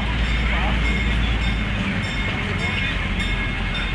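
Large amusement park train at Knott's Berry Farm rolling past, a steady close rumble with faint tonal hums. A voice talks over it.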